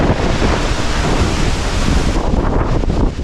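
During Cyclone Fengal in Chennai, loud, dense wind and rain roar without pause, a heavy broadband rush with no other sound standing out.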